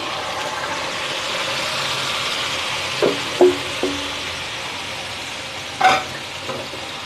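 Green peas are stirred into spiced masala with cooking tomatoes in a pan, a constant low sizzle broken by a few sharp scrapes and clinks of the spoon against the metal.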